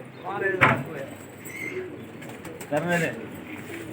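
Pigeons coo in a bout of pigeon flying, with two bursts of throaty warbling calls close by, someone speaking briefly between them.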